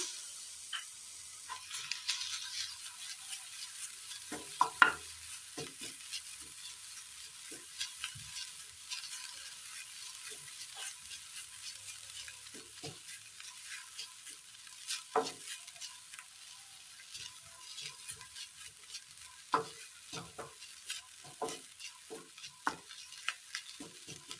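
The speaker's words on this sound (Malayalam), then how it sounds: "ഒന്ന് ഗോൾഡൻ കളറായി വരും വരെ ഒന്ന് വഴറ്റിയെടുക്കാം" Grated coconut sautéed in a hot pan toward golden, giving a faint, steady sizzle with scattered scraping and stirring clicks throughout, no voices.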